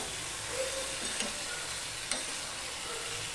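A spatula stirs dry vegetarian spinach curry in a pan: a faint, steady frying hiss with two soft scraping strokes, close and quiet with no voices.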